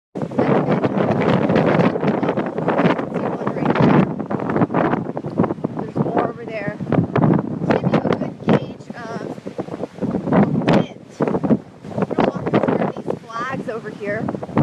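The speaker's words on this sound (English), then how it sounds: "So yeah, the winds are absolutely crazy." Strong wind buffets the microphone at Ocean View beach in Norfolk, a continuous loud roar with gusty surges, while a person talks over it throughout.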